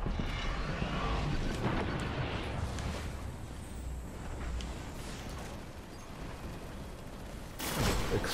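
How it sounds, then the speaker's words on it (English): Explosions and heavy gunfire from Destiny during a Weekly Heroic mission, with exploding shanks bursting in a dense, continuous wash of blasts and a sharper loud burst near the end. "Exploding shanks."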